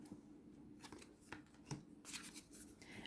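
A tarot card drawn from a deck, quiet close rustles and flicks of cards sliding against each other, with a few sharper snaps, faint and intimate, no talking.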